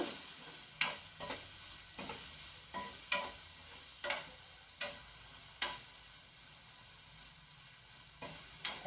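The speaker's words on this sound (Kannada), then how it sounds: "ಎಲ್ಲಾನು ಸ್ವಲ್ಪ ಎಣ್ಣೆ ಒಳಗೆ ಬೇಯಬೇಕು" Sprouted-gram palya cooking in a little oil, stirred with regular, evenly spaced scraping strokes roughly once a second over a faint, low sizzle, close by and with no talking.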